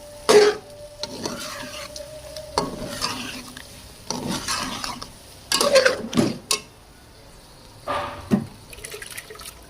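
Chicken kadai is stirred in a sizzling pan, with a series of uneven scraping and clattering strokes and short bursts of frying hiss between quieter pauses.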